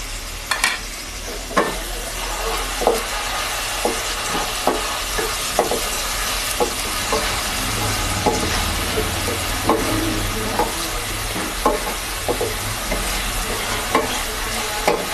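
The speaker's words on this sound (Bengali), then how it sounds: "এবার পেঁয়াজটা দেবো।" Onion fries in a pan for a Bengali egg curry, a continuous close sizzle punctuated by regular sharp scrapes and knocks of a spatula stirring, with no voices.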